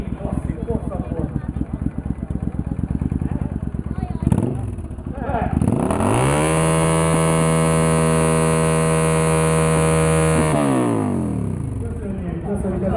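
An old classic Suzuki Intruder motorcycle at a biker meet's sound-racing contest by Szelidi lake, its engine loud and close, revved up and held at a steady high drone for several seconds before dropping back, with voices in the background.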